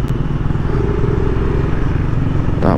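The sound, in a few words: Raider 150 motorcycle passing on the road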